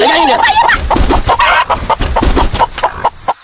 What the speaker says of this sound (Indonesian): Sini lu ayam sialan.